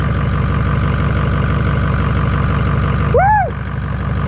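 A 6.0 diesel truck engine idles just after a repair, giving a steady, close, loud rumble throughout; a brief voice cuts in near the end.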